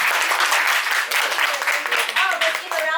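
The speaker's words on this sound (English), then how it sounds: "let's give a round of applause to Mervyn." An audience in a public-speaking evaluation session applauding, a dense steady wash of clapping with a voice speaking over it near the end.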